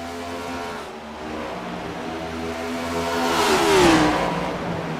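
Race cars at Watkins Glen International, a close engine whine rising in pitch as one car accelerates and sweeps past with a brief swell in loudness, then fades slightly.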